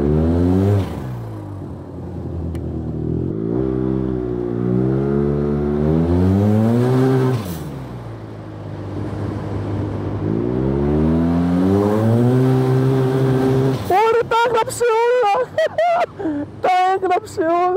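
A Yamaha TMax maxi scooter engine revs repeatedly, pitch sweeping up and down in long rising pulls, then choppy bursts of throttle near the end, loud and close.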